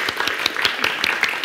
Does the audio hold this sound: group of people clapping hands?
yes